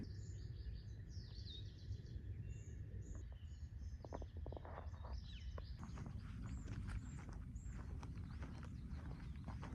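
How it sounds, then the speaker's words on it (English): Birds sing and chirp outdoors beside a path with water and flowers, their calls fairly faint behind steady ambient noise and soft footsteps or clopping. "There are so many birds. I feel like you can probably hear some of them."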